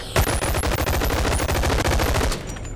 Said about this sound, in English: I kinda wanna shoot the window again